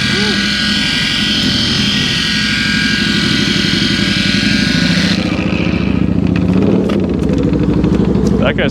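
A motorcycle rides past, its engine droning loudly then shifting as it goes by, with people talking nearby over the steady mechanical noise.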